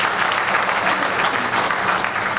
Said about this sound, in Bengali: যারা বাইরে আছেন তাদের জন্য একটা হাততালি দিই সবাই